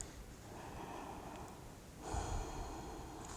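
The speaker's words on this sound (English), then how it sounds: "One more deep breath." A single deep breath during a yin yoga flow, soft and close: a slow airy inhale easing out, followed by a fuller exhale near the end, faint and alone.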